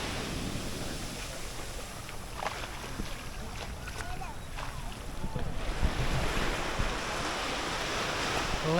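Wind and surf roll steadily onto Surin Beach in Phuket, a broad continuous wash with gusting wind buffeting the microphone, the waves swelling louder partway through.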